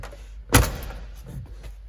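A single sharp thud of the door shutting on a 1997 Roadtrek 170 Popular Dodge camper van, followed by a faint rustling rumble.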